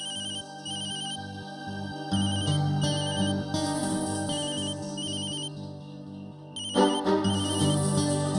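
A telephone ringtone plays a repeating electronic melody in a quiet indoor setting, steady and moderately loud, with a brighter swell near the end and no one speaking.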